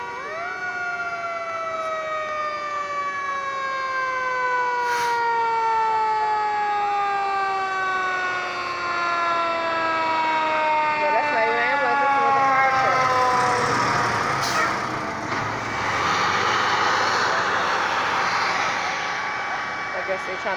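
A wailing ambulance siren sweeps up and down, growing louder as it draws near, with steady traffic noise and a few voices underneath.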